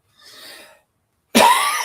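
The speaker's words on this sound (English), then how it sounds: "I still got that cough" A single loud, sharp cough close by, preceded by a soft breath.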